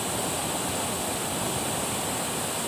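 Curug Tonjong, a waterfall near Sindang Heula village in Brebes, Central Java, gives off a dense, steady roar of falling water that fills the whole clip without a break or any voices.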